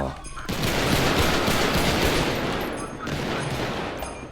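Dense automatic gunfire rattles through a GTA V FiveM firefight in two loud sustained bursts separated by a short gap, with chatter faintly in the background.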